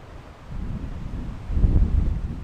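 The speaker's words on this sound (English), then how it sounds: "It's kind of windy." Gusty wind buffets the microphone with a low rumbling roar that swells stronger toward the end, with no voices.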